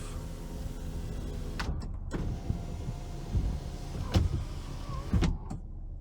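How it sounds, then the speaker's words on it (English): A steady electric motor whirs as the sunroof of a 1990 Acura Legend LS Coupe slides open, with clicks and a few soft clunks over the constant hum inside the vehicle. "Here's operation of the sunroof."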